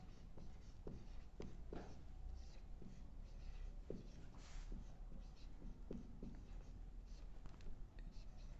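Quiet pen or chalk strokes of handwriting during a Hindi grammar lesson, soft scratchy marks in irregular bursts over a steady low background hum.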